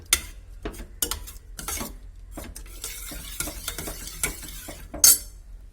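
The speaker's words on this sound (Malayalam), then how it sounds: "അതൊന്ന് കയ്യിലോണ്ടൊന്ന് നമുക്കൊന്ന് ഉടച്ചു കൊടുക്കാം കേട്ടോ." Cooked pumpkin is mashed by hand in a pot for a pudding, giving soft, irregular squishing and scraping sounds with occasional sharp clinks of utensil against metal, close and fairly quiet.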